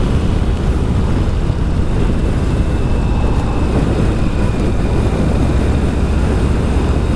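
A 2022 Harley-Davidson Street Bob motorcycle accelerates with a loud, continuous engine and wind roar close to the microphone. The roar stays dense and even for several seconds, and no one speaks.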